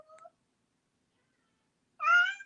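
A talkative house cat meows twice indoors, a short brief call at the start and a louder, drawn-out meow after a long silent gap, close and clear.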